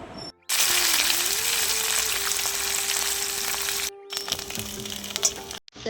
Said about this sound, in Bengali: দেখো ভাই ভেজে নিচ্ছি তো এই লেজারটা